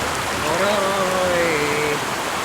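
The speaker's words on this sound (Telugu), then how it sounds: "చూడండి ఎలా ఉందో, అలా బాగా వాటర్ ఫ్లో అవుతున్నాయి" Water flows steadily in the Chitravati river near Anantapur, Andhra Pradesh, a continuous close rushing wash that rises slightly midway, with a faint tonal line running over it.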